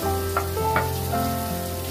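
Paneer pieces sizzling in hot oil in a pan, a steady close frying hiss with faint crackles throughout.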